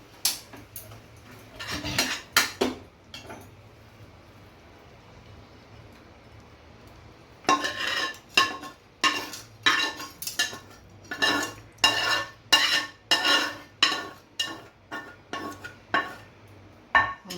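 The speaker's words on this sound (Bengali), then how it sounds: "এখন আমি এটা সার্ভিং বলে ঢেলে দিচ্ছি" Tomato chutney scraped from a cooking pot into a serving bowl, heard as a rapid series of sharp metallic clinks and scrapes of a spoon against metal, in two bursts separated by a quiet pause, close up with no talk.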